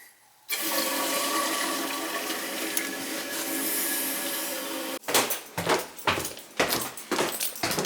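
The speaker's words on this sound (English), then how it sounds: "So when I flush it, it starts dripping." A leaking household toilet with a dripping lead pipe downstairs flushes with a loud, steady rush of water lasting several seconds, then clunks and knocks of the tank and fittings follow at close range.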